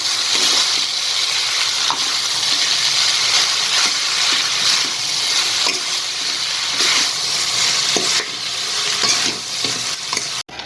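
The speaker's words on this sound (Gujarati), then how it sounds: "આ રીતના 2 ચમચીથી આપણે હલાવી લઈશું એટલે બધી જગ્યાએ મસાલો અને સોસ લાગી જશે." Loud, continuous sizzling and scraping as chow mein noodles with sauce and spices are tossed and stirred in a hot pan with two spoons, close up and without talk.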